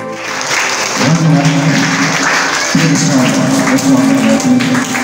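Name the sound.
audience applause at a school prize distribution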